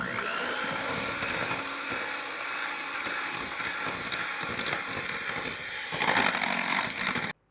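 An electric mixer whirring through cake batter in a bowl, a steady high motor whine with scraping rattles, swelling louder near the end before abruptly stopping.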